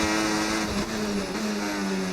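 F1 race car in a video game, accelerating out of a corner at Monaco with the car sliding slightly at the front: a loud, close, high engine whine climbing steadily in pitch, gliding briefly around a gear change.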